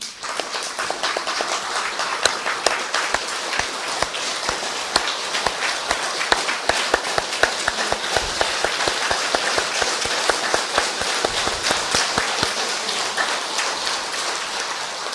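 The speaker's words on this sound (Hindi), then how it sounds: "15 मिनट थोड़ी तालियां बजाएंगे जरा।" Audience at a Brahma Kumaris spiritual gathering applauding together in a dense, continuous wash of claps that stays steady and loud for the whole stretch, with no talking over it.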